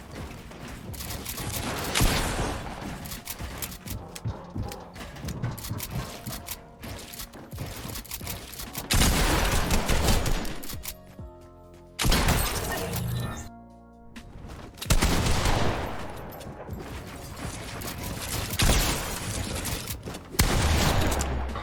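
Gunfire in the video game Fortnite, repeated bursts of loud shots and rapid volleys broken by short pauses, mixed with game effects and a person talking over it.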